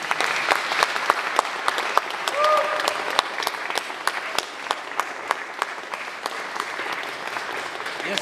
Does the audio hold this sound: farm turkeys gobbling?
no